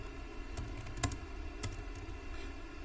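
Quiet typing on a computer keyboard while entering an SQL inner join query, a handful of scattered key clicks with one crisper tap, set against a steady low hum.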